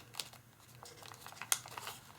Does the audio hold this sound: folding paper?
yes